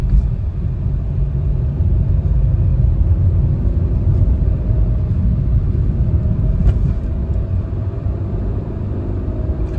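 A Maruti Suzuki Fronx engine runs steadily near 2500 rpm while driving, a continuous low droning rumble with road noise, loud and unbroken throughout without talk.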